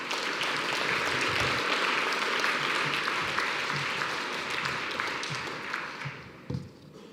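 Sustained audience applause welcomes Prof Ben Garrod to the stage at the Innovation and Impact Awards 2020 evening, a dense steady wash of many hands clapping that stays loud and thins out near the end.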